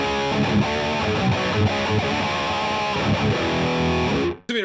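Heavily distorted electric guitar chords ring through an unlabeled mystery speaker cabinet, loud and close with rhythmic strums, then cut off abruptly near the end.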